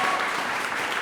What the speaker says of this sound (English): Can you clap again?